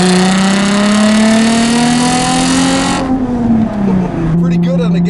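A 2004 Nissan 350Z touring car accelerates hard, its engine revving loud and close with a rising drone that peaks, drops at a gear change, then climbs again.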